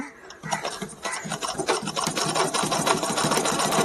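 Zigzag sewing machine running steadily while stitching a shirt buttonhole, a close, continuous rattling whir with rapid needle chatter throughout.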